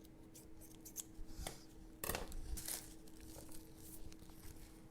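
Scissors trimming paper for card-making, a quiet series of soft snips and crisp cuts with light rustling between them, faint and close, one sharper cluster of snips in the middle, with no talking.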